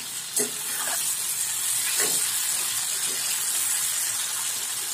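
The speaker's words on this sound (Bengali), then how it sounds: "আমি আরও 1 মিনিট মতো তো আঁচ বাড়িয়ে বা মিডিয়াম আঁচে আরেকটু ভেজে নেব।" Mixed vegetables with ridge gourd fry in a pan over medium heat, giving a steady, even sizzle with a few soft stirring clicks throughout and no talking.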